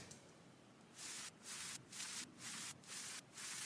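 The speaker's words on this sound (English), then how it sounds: "all I have is this vinyl crackle that's sidechained to the kick" Vinyl crackle texture sidechained to a kick in a house music drop, a soft hissing static that swells and ducks in a regular pulsing rhythm, about once every half second, fairly quiet.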